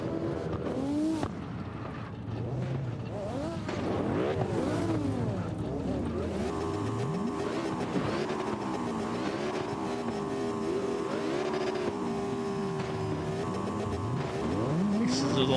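A Mazda Miata drifting at an open practice session, with a continuous engine roar, rising and falling revs, and tire noise throughout, heard from a distance with a steady loud crowd-level background and faint voices.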